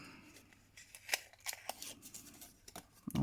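A paper-crafting tool scores a fold line into card stock, a series of crisp scraping strokes and small clicks, close and quiet, building to a louder scrape at the end.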